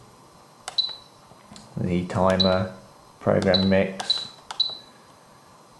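Short electronic beeps from scrolling the menu of a Spektrum DX7 RC radio transmitter with its up and down rocker, several crisp bleeps spaced through the clip while someone talks over them.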